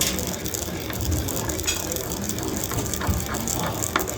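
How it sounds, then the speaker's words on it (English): Toasted sesame seeds are ground with a wooden block in a restaurant kitchen, a rough gritty scraping and rattling that repeats in uneven circular strokes, close and moderately loud. "You can grind as much as you like, as smooth as you like"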